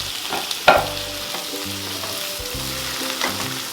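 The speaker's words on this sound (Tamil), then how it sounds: "தக்காளியும் நல்லா வதக்கிக்கோங்க." Chopped tomato sautéing with onion in a pan for a Tamil chicken fry, a steady close sizzle broken by a sharp spatula clank and occasional stirring scrapes, no voices.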